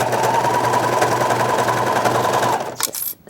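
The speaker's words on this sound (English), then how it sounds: "Being very careful not to sew over your pins. The knife on your serger will not like that." A serger sewing machine stitches fabric with a loud, fast, steady mechanical whirr for a couple of seconds, then stops abruptly, followed by a few soft handling clicks.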